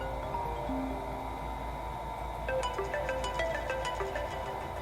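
A custom phone ringtone in a roleplay video game plays a melodic electronic tune of short, clear notes over a steady background hum, with no one speaking.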